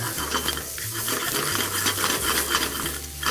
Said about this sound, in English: We're gonna saute these for a minute. We're gonna add a little bit of butter.